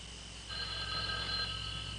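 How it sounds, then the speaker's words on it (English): A telephone in a lone phone booth in the Mojave desert rings faintly, a thin electronic trill rising over steady background hiss partway through. "Charlie, can you get the phone?"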